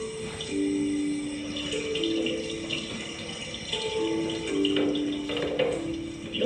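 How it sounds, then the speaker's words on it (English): Cool water runs steadily from a tap into a sink, a continuous mid-level stream with faint tonal hums layered over it, no voices. "Let me run some cool water."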